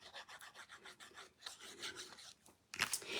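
Card-making paper is trimmed at close range, with soft rhythmic rasping strokes, a brief pause, then a sharper scraping burst near the end. The sounds are quiet and no one talks.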